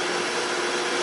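Steady broadband rush of a dust collection vacuum pulling air through an X-Carve CNC router's hose, close and constant with no pauses or talk.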